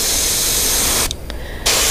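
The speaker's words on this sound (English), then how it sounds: "Should be able to control the spray here." Steady airbrush hiss spraying paint onto a fishing lure, briefly dropping off for about half a second before resuming at full strength.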